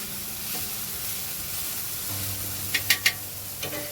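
Tomatoes being stirred and fried in a pan make a steady sizzle with a few sharp scraping clicks near the end. No one talks.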